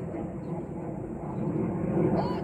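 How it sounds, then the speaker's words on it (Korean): Airplane passing overhead above a golf course in Korea, a steady low broadband rumble that swells slightly louder toward the end, with people talking nearby. "아, 이거 비행기 소리 때문에 그래."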